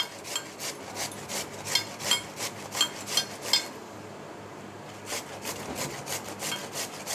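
Watermelon rind grated by hand, a rhythmic series of rasping back-and-forth scrapes, a short pause midway, then more strokes, fairly quiet and close.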